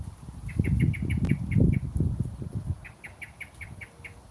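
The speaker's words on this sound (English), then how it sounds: "He's on his perch up there, Mr. Blackbird." A blackbird perched overhead calls to its chicks with a repeated series of short, evenly spaced chirps in two bursts, over low rustling and handling noise nearby.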